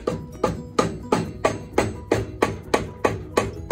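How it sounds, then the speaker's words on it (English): A rubber mallet taps a Wahoo Kickr V1 smart trainer flywheel onto its axle during a teardown, giving about a dozen evenly spaced, close, solid knocks at a steady rhythm, with no talk. "time for my favorite tool, rubber mallet. We're gonna gently tap"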